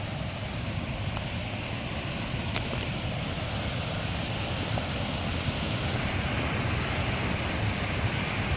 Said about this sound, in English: Here's a little dam on Hay Creek